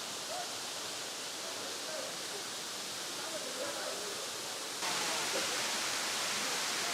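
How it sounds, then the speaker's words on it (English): Kanto Lampo Waterfall in Bali gives a steady, hissing rush of falling water at moderate distance, growing slightly louder and brighter partway through, with no talk. "So we've got down to the waterfall"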